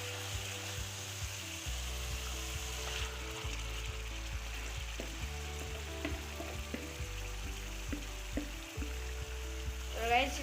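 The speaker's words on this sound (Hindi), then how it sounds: "गाइस अब हम इसके अंदर चिकन डाल देंगे।" Chicken pieces go into a hot pan of masala for kadhi chicken and fry with a steady, close sizzle and some stirring clatter, continuous throughout, while a low hum runs underneath.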